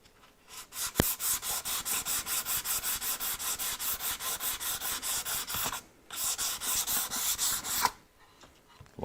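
Coarse-grit sandpaper rubs over wood by hand in fast, even back-and-forth strokes, close and loud, pausing briefly near the middle and stopping near the end.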